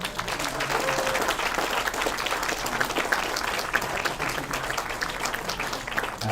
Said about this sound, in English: Let's have one massive cheer for Year 5 for that wonderful, wonderful performance